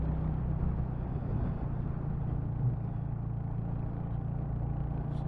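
A 2023 Royal Enfield Hunter 350 motorcycle's single-cylinder engine heard while riding, a steady low rumble with road and wind noise, even and fairly loud throughout, no speech.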